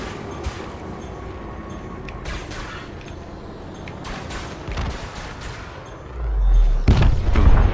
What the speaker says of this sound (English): You can see that the gimbal cannons don't always stay completely on target.